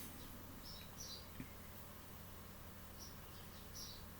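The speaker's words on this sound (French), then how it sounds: "après, j'entends les oiseaux. J'ai dû laisser une fenêtre ouverte." Small birds chirp faintly outside, heard through an open window into a quiet room, as a few brief, scattered calls sit over a low, steady background hum.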